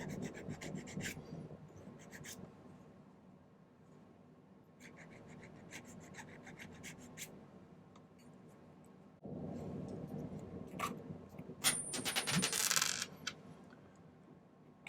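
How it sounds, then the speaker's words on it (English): A metal file rasps against a soldered silver ring at a jeweler's bench in quiet, repeated bursts of short strokes separated by pauses, with a sharper clink near the end. "Getting a little overzealous in my filing there."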